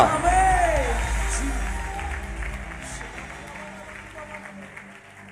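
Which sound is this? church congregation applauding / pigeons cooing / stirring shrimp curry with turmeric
church congregation applauding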